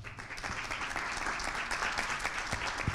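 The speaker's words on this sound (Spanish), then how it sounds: "a quien recibimos con un muy fuerte aplauso" Applause from the audience at a business congress in Panama welcomes a speaker. The clapping is continuous and moderately distant, with scattered sharper claps and no talk over it.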